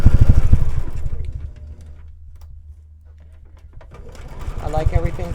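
A sewing machine stitches a disappearing nine-patch quilt block in rapid, even bursts, loud at the start, pausing through a quiet stretch, then running again near the end, with a voice speaking nearby.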